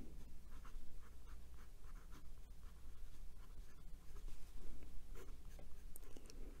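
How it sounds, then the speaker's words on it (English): A Leonardo Furore Salt fountain pen with a 1.1 stub nib scratches across Clairefontaine 90 gsm paper, giving close, continuous soft strokes with rhythmic bursts as letters form, alone without talking. "we're back with the writing portion of the review"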